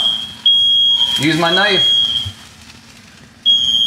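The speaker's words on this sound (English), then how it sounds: "then we can handle the smoke alarm" A kitchen smoke alarm, set off while cooking smash burgers, emits a loud, continuous high-pitched beep that cuts out briefly while someone speaks, then resumes.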